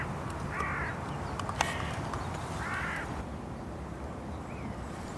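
Crows cawing across open ground during corvid control with an air rifle, two harsh caws a couple of seconds apart at moderate distance, with a sharp click between them and quiet background hiss.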